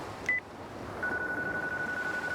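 A phone being dialed in the video game Yakuza 3: a short beep tone, then after a pause one long steady electronic tone, faint and clean over a quiet background, no voices.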